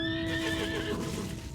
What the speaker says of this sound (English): this is my new, like, Pegasus horse thingy